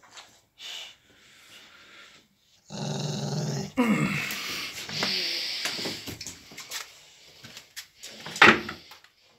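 Two dogs playing rough indoors, with bursts of low growling and snarling, some scuffling and a sharp loud peak near the end, between quieter gaps.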